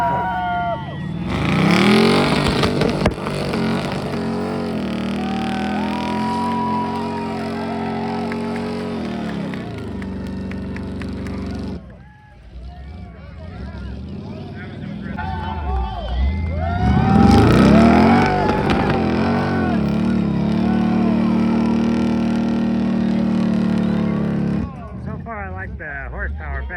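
An M-715 military wrecker truck engine revs hard during a rope pull at an off-road wrecker competition, two long loud surges of straining engine with shifting pitch separated by a brief lull, with voices nearby.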